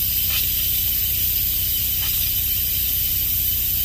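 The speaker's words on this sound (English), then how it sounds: "I'm gonna release the pressure valve now that I cut it off. So I'm gonna turn it into the venting position." Instant Pot pressure valve turned to venting and releasing steam, a loud, continuous close-up hiss that holds steady throughout, with faint airy bursts riding on top.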